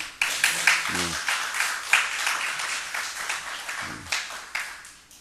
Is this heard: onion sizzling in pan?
no